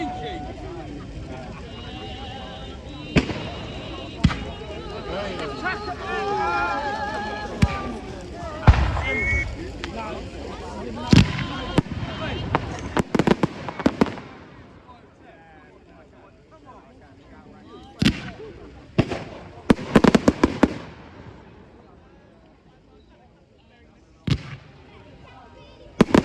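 Fireworks burst at a bonfire night in Robertsbridge, Sussex, with scattered loud bangs and crackles coming at uneven intervals over a murmuring outdoor crowd, then fading to sparser sharp reports.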